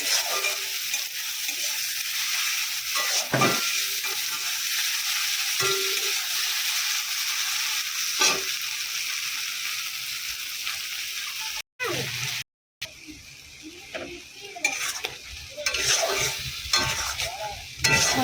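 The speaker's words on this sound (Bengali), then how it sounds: "পেঁয়াজ আর টমেটো ভাজা হয়ে গেছে" Onion and tomato sizzle steadily in a hot pan, with occasional scraping stirs and brief clanks, a few short gaps breaking the constant hiss.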